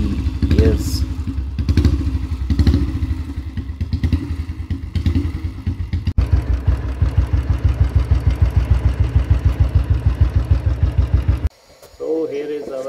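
A 1966 Royal Enfield motorcycle with gears, its original parts repainted, runs with an engine note that starts rough and uneven, then settles into a steady rapid thumping idle that drops out briefly near the end.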